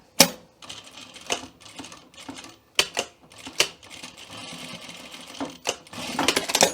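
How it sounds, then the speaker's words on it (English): A sewing machine stitches a welt pocket in close, loud bursts of rapid mechanical clatter, separated by short pauses and sharp clicks, with no one talking. "What I like about stitching these with the machine is that it does in some ways feel a little bit more secure"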